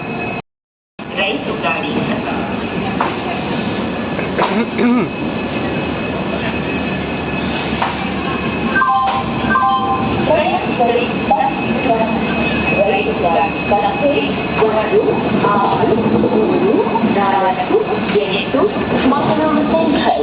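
An express train pulling away from a station platform on the Konkan Railway, a loud steady rumble of wheels and cars with some squealing, and announcements or voices mixed in.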